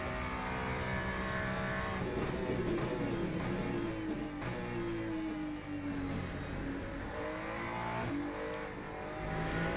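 A Ferrari 296 GT3 race car in Le Mans Ultimate revs hard and loud, its engine note rising and falling through gear changes with a brief tire squeal, a continuous close-up racing roar.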